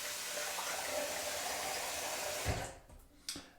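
Shaving cloth rinsed under a running tap, a steady close hiss of flowing water that cuts off near the end, followed by a couple of soft knocks and drips.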